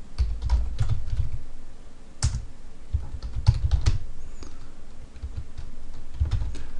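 Fast typing on a computer keyboard during a WordPress setup, a steady run of close, crisp key clicks with a few heavier thumps and short pauses, with no voice over it.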